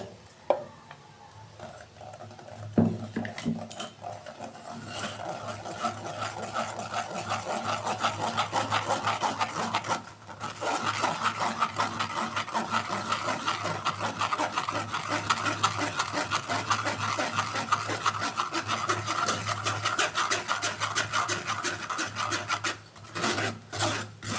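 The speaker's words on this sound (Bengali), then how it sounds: "ছাঁকনি দিয়ে আমি পেস্টটাকে ছেঁকে নেব।" Green chili paste being pressed and rubbed through a strainer, a continuous close rasping scrape with a brief pause midway, heard alone.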